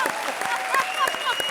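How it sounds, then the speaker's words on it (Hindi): A studio audience at a comedy show claps steadily in a dense, crackling wash while a voice talks over it. "जोरदार तालियां।"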